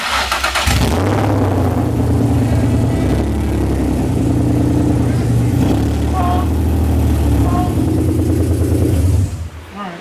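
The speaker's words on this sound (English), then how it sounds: "the motor sounds completely perfect" A repaired car engine runs loud and close for the whole stretch, holding a rough steady idle with a few rises in revs. It cuts off abruptly near the end.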